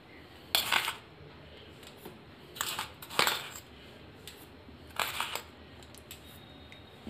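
A spoon clinks and scrapes against a bowl as ground sugar goes into two beaten eggs for fry cake batter, a few sharp metallic taps in separate bursts with quiet pauses between, close and alone.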